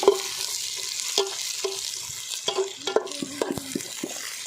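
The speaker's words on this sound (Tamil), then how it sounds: "அதையும் நல்லா கிண்டிகிட்டே வரலாம் அடி பிடிக்காத மாதிரி" A spatula scrapes and stirs capsicum, beans and carrot frying in a pan, soft sizzling under repeated clinks and scrapes, close and fairly quiet.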